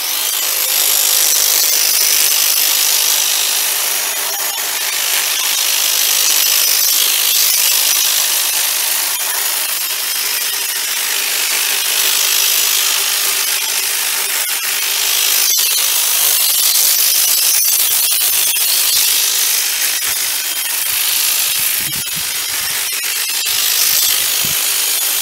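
A Dewalt 60V string trimmer whirs continuously at high pitch while cutting, a loud, steady, close buzz with slight swells and occasional ticks of debris, heard alone for the whole stretch.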